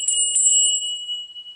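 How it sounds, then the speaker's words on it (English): A small altar bell rung in a short devotion to Freya, three bright metallic strikes in quick succession followed by a sustained, slowly fading ring, close and clear with no talking. "And then you can ring the bell again"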